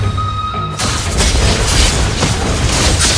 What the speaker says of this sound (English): Our turret has been destroyed.